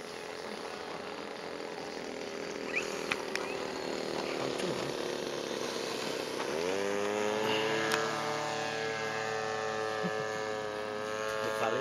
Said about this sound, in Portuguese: esse motor aí tem até 12 mil de rotação